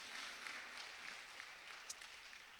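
A church congregation applauding in encouragement for the Sunday school teachers, a steady wash of many clapping hands that is fairly faint and evenly sustained, with no one speaking over it.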